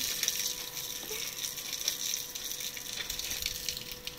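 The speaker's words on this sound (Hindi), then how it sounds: "पानी गिरेगा यहाँ से पानी गिरेगा" Water falls from above and splashes steadily, a continuous rushing patter that fills the whole stretch at moderate loudness.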